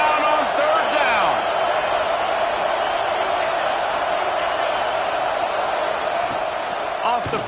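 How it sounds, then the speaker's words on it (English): A packed stadium crowd at a Gators football game roars continuously in a dense wash of noise, with whistles and shouts rising through it and a commentator speaking over the top. "This crowd unhinged, trying to make sure the Gators don't back down on 3rd down."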